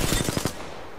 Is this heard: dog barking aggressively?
no